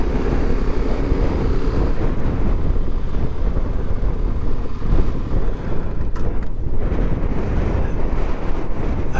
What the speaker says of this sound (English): It's so windy. I'm getting pushed.